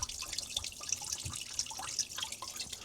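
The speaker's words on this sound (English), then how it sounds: "I'm just letting it finish draining right here, almost filled this bucket." Water drains from a copper main line into a nearly full bucket in a three-story house, making a soft, steady trickle with scattered drips close by.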